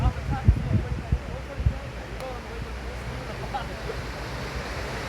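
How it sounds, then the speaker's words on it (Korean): Ocean surf at Manly Beach rolls and hisses steadily, with a few heavier low thumps early on and some wind buffeting the microphone. "바닷가 소리 잠시 들으실래요?"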